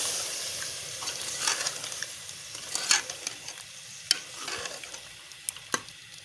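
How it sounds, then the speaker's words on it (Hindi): Meat and yogurt frying in a pan while being stirred for aloo gosht: a steady, quiet sizzle broken by scraping strokes of the spoon and occasional sharp pops and ticks, heard close with no talking. "अब इसको मैं थोड़ा सा भून लूँगी दोबारा फिर"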